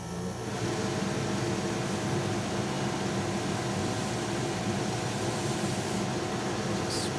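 An electric fan runs in a hobby workshop during a plastic model build, a steady, fairly loud broadband whir that holds evenly from start to finish with no talking.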